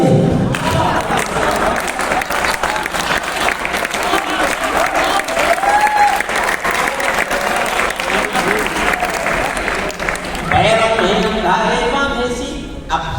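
An audience at a Hindi poetry recital claps and cheers. The loud, sustained applause with shouts holds for about ten seconds before it shifts and settles.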